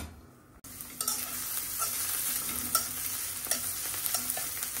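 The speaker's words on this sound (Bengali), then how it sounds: "দিয়ে দিচ্ছি পেঁয়াজ কুচি। এখন দিয়ে দিব ওই যে আলুটা একটু ভাজা নিই।" Chopped onion and potato fry in a pan with a steady close sizzle. A tool scrapes and stirs them in repeated strokes, and no one talks.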